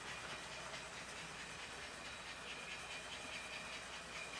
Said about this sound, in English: This engine is starting to struggle a little bit. It is spinning just a little bit, but it's still pulling it.